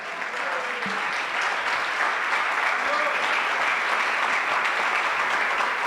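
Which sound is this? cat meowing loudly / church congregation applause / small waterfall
church congregation applause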